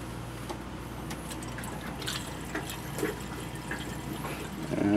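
Water from a pump filling a bucket, with close splashing and trickling, scattered drips, and a rising gush near the end.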